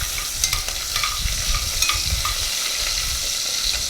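Bacon frying in a pan for a cauliflower and sweet potato soup, a steady crackling sizzle with scattered sharp pops and a few stirring scrapes, close and clear with no talk.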